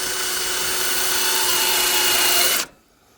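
Loud continuous whine of a cordless screwdriver grinding a meteorite, a dense close hiss of motor and abrasion that holds steady, then cuts off abruptly near the end, leaving near silence.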